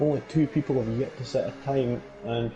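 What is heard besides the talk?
None of the usual background noises is heard.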